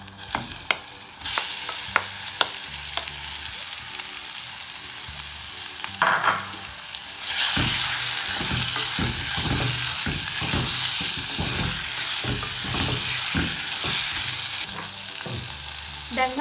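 Marinated cuttlefish dropped into a spiced tempering for a Sri Lankan curry, bursting into a loud, steady sizzle with repeated scraping stirs close by, and no talk.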